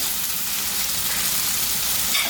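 Okra frying in a pan for a Divali dish, a steady, dense sizzle of oil that holds evenly throughout with no voices.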